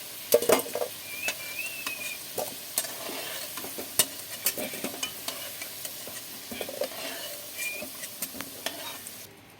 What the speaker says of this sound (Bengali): আমি ওই তেলের মধ্যে তেজপাতা আর শুকনো লঙ্কা ফোড়ন দিয়ে দিলাম